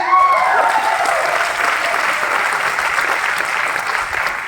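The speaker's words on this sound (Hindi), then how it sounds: "बजाइए ताली अपने लिए।" An indoor audience at a business plan presentation claps continuously, a dense, steady burst of applause that fades slightly toward the end.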